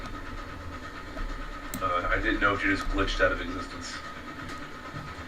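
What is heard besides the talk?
train running in the video game Railroads Online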